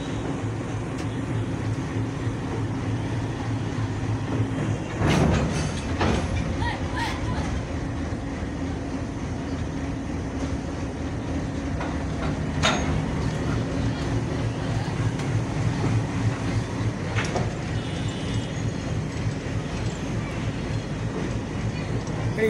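A freight train of oil tankers hauled by a WDM-3D diesel locomotive, number 6527, rolls past near Saidpur railway station, a steady rumble and clatter of wagons running throughout with a few sharper bangs, while people talk faintly.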